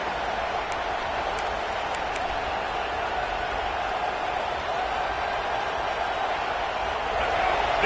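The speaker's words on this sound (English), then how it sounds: "this crowd trying to make life miserable for this offense" A football stadium crowd roars in a steady, dense wash of noise that swells slightly near the end, with a commentator talking over it.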